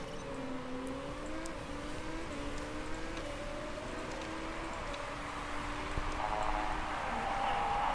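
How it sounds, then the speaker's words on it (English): A race car engine in the Motorsport Manager video game drones and shifts pitch steadily for several seconds with no talk, carrying a faint rough edge that hints at a fault. "Hearing some strange noises from the engine."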